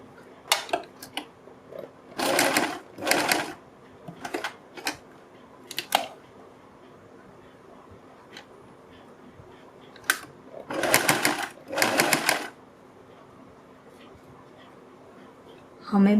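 Short intermittent bursts of a sewing machine stitching a strip along the buckram on a kurti neckline, separated by quiet gaps and small handling clicks, close by.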